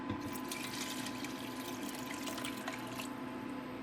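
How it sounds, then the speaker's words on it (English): Vegetable broth pours into a soup pot in a steady, close liquid stream with a faint gurgle, continuous throughout and without talk. "We'll go ahead and add our vegetable broth now."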